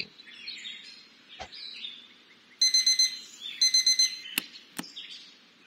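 Electronic alarm clock in the video game Routine, ringing in two rapid bursts of repeated beeps, with faint bird-like chirps and a few sharp clicks around it.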